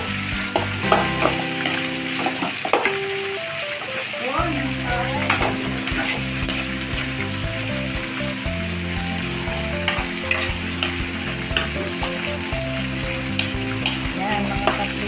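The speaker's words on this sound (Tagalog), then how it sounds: "Igisa lang natin, tapos palabasin natin yung sarili ng mantika." Ground pork sautés with tofu in a pan, a loud, crackling sizzle running throughout while a spatula scrapes and clatters repeatedly against the metal, with a faint voice or background noise underneath.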